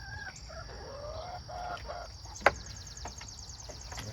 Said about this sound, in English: our chickens are a little anxious this morning